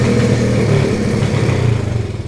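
A small pit bike engine idles close by with a steady, even low rumble that holds for the whole stretch, with no talking over it.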